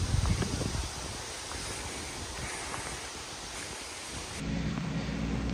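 Wind gusts buffet the microphone outdoors in an orchard while mushroom and fruit picking, a steady roaring rush that swells a little near the start and end, with no voices over it.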